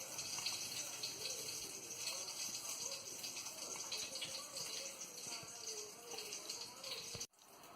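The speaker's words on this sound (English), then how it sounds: "Drain out the water." Water pouring and gushing steadily as cooking water is drained off a pot of boiled potatoes, a continuous splashing rush that stops abruptly near the end.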